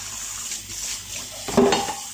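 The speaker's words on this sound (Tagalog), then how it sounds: "Kailangan mahugas ang pinggan" Water runs from a kitchen tap while dishes are washed, a soft continuous splash with a brief clatter of plates near the end.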